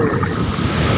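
Surf washes steadily onto Nanganesa beach at Ende, Flores, a continuous broadband rush with some wind buffeting the microphone and no voices.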